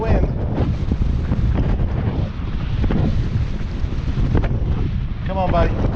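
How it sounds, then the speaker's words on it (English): A strong wind roars outdoors and buffets the microphone, loud and gusting without letup. "That's a heck of a wind."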